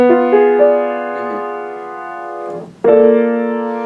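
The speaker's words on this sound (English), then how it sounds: "I'll just play the 4 notes in the diminished chord." A close, clear keyboard diminished chord, four notes without the root, rings out with a couple of notes shifting early on, slowly decays, then a fresh chord is struck near the end.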